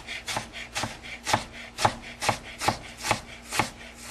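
A knife slicing ginger thinly on a cutting board: about nine crisp, evenly spaced chops in a steady rhythm, close and clear, no talking.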